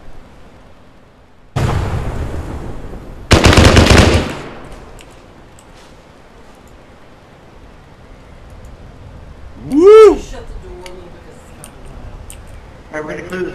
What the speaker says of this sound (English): Under fire! Under fire! No idea from where.